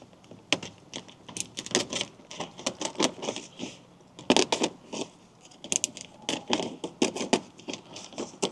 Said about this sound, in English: I believe I would need to cut a little gap here in my plastic.